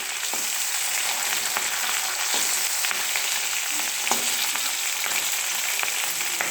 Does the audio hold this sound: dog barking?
no